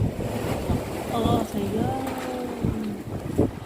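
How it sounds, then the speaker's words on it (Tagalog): Strong wind in Japan buffets the microphone in loud, rushing gusts, with brief voices heard over the roar. "Yan ang hangin dito."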